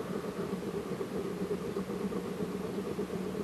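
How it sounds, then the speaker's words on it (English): A simple ball-piston air-powered demonstration engine runs steadily, giving a continuous close-up mechanical hum with a fine rapid pulsing throughout, with no voices. "air-powered demonstration engine."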